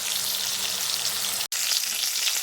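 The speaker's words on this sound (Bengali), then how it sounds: "আমি 3টে বড়াই একবারে ভেজে নেব" Gourd leaf fritters (bora), three at a time, sizzle steadily in hot oil over a low gas flame, a close, even crackling hiss with one brief dropout midway.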